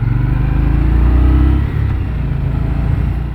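An Indian Scout Bobber Twenty motorcycle engine runs loud and close on a test ride, with a deep, steady rumble that holds, then drops briefly as the revs change before settling again.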